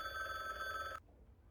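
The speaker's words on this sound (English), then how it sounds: "The phone." In The Bookwalker video game, a telephone bell rings in one bright, sustained trill that cuts off abruptly after about a second, then leaves near silence.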